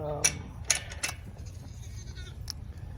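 Goats kept in Los Angeles bleat several times, nearest around the first second and again about halfway through, over a steady low background rumble.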